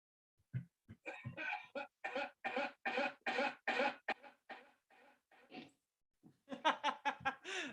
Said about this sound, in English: I put my own coughs in the beginning